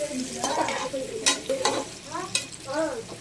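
Onions and mint being stirred in a frying pan, a steady sizzle of cooking under repeated scraping strokes of a spoon against the pan, close and fairly loud.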